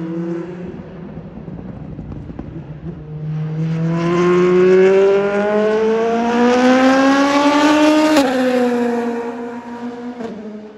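An LMP2 race car engine roars loud and close on a circuit, its pitch climbing steadily as it accelerates, then a sharp shift and fading whine.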